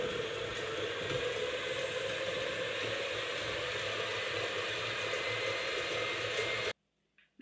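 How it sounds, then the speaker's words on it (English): A stand mixer churning cookie dough for glazed maple cookies, a steady close mechanical whir and rattle that runs unbroken for nearly seven seconds and then cuts off abruptly. "I'm going to be doing it today in my stand mixer"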